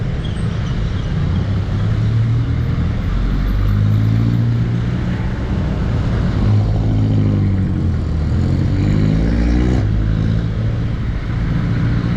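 Dense road traffic on a busy Friday, heard from a motorcycle ride on a Honda PCX160 scooter: continuous loud engine hum and rumble of cars and motorbikes with shifting revs throughout, no speech.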